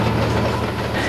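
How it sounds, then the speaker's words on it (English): An Amtrak ICE high-speed train rushes past near Eloy in the Arizona desert, a loud, steady roar of wheels and rail noise filling the whole moment without letup. "don't hold your breath waiting to see this train rocketing across the Arizona landscape at"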